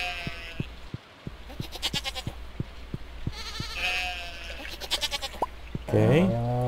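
Farm goats bleating in Stardew Valley, several wavering game bleats sounding one after another with a louder call at the end, over soft rhythmic ticking and a person's talk.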